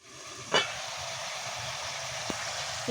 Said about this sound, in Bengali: লবণ জল দিয়ে মা কষাতে দিয়েছিল সেইভাবেই কষানো হচ্ছে এখনও কোনো মশলা দেওয়া হয়নি